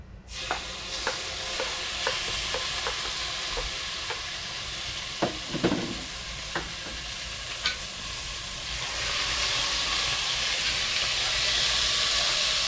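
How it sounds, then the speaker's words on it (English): Beef sears in hot oil, a little over 300 degrees, in a cast iron Dutch oven on a Camp Chef Yukon camp stove, giving a steady close sizzle with scattered clicks and scrapes, then a louder, brighter hiss near the end. "I got the oil in the pan, and I'm going to get my meat in the sear."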